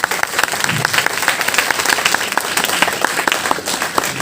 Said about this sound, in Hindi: एक बार जोरदार पुनः हो जाए तालियां उनके लिए।